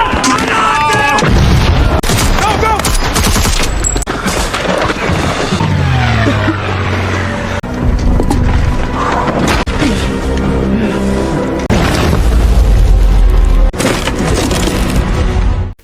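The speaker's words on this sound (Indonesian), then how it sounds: "Di sana terjadi baku tembak yang cukup sengit." A film battle scene in which soldiers fight Nazi troops plays loud, dense gunfire cracks, booms and explosions, with a narrator talking over it.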